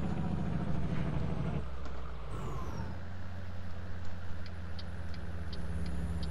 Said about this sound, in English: Traffic's getting heavy.